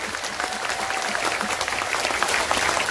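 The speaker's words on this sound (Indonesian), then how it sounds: "Kurang kenceng, tepuk tangan." An audience at a live sholawat gathering in Taichung, Taiwan, applauds steadily, a dense continuous wash of many hands clapping that holds at an even level throughout.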